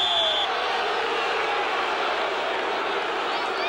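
Big crowd at a 1986 college wrestling match between Iowa and Iowa State at 158 pounds, a steady loud roar of cheering and shouting filling the arena throughout.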